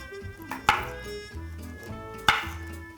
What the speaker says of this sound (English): I'm trying to show you how to thinly slice up a ginger